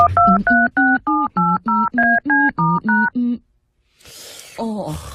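A landline telephone being dialed: about ten clear two-tone keypad beeps in a steady rhythm, loud and close, followed by a pause, then a burst of noisy static and a brief muffled voice on the line.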